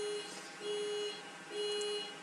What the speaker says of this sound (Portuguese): essa buzina está me desconcentrando um pouco